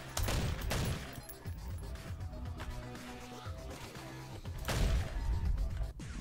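Assault rifle gunfire in the Madness Interactive Reloaded video game, rapid loud bursts of shots mixed with impacts and thuds, close up with no talk.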